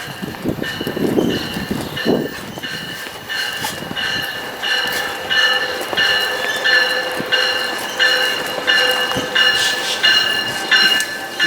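An Amtrak passenger train led by a Charger locomotive rolls in loudly and close, with a rumbling, clanking roll, sustained metallic wheel squeal and ringing tones over the full stretch.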